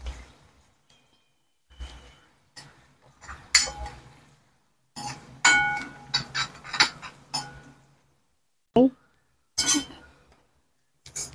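A spoon scrapes and clinks against a pan while Malvani masala and sambar masala are stirred together for mini masala idli, in scattered short bursts separated by pauses.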